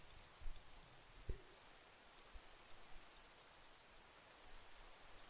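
Rain falls in Minecraft as a soft, faint, steady hiss, with a few small thumps and clicks scattered over the quiet wash of noise.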